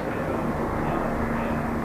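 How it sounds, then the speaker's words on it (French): A rescue helicopter arriving to pick up a hiker in a mountain valley, a steady, loud engine and rotor drone that fills the whole moment with no voices over it. "il y a l'hélico qui vient chercher un randonneur"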